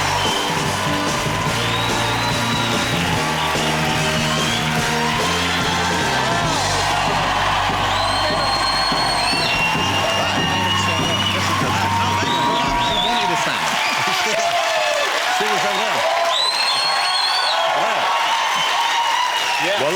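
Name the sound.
studio audience cheering and applauding for Will Ferrell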